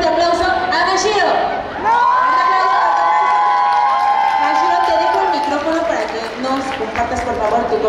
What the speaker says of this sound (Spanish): voy a pedirles que reciban con un fuerte aplauso a Mashiro.